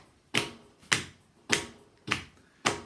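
Five crisp pats of hands on knees at a slow, steady beat, close and clear with short decays and quiet gaps between, in a classroom music lesson.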